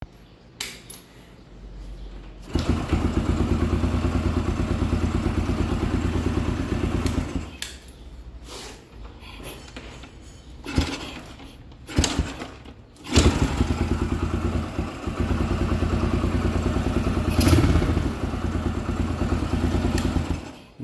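Rebuilt Yamaha YBR 125 motorcycle engine kicked to life and running, a loud close single-cylinder putter idling in stretches, broken by pauses, clanks and a revving restart.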